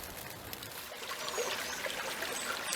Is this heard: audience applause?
no